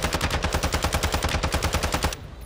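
Rapid automatic gunfire in an online shooter video game, a loud, steady burst of about twenty evenly spaced shots that stops abruptly near the end.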